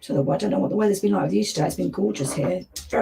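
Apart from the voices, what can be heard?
No everyday noises stand out.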